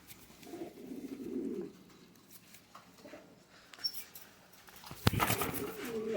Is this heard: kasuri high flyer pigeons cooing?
yes